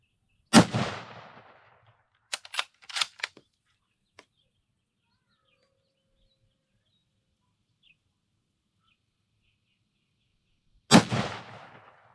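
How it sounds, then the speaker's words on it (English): A shotgun fires at a piñata, with two loud, sharp blasts far apart, each trailing off. Faint clicks and small knocks fall in the quiet gap between them. "I'm gonna shoot right where we've been putting all those shotgun shells."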